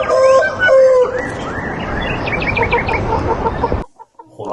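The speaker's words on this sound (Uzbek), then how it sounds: "Uyda xo'roz yo'q, qaydan paydo bo'ldi ekan?" A rooster crows loudly and close by in a long rising call, followed by further clucking and crowing from fowl, then a sudden cut to near silence.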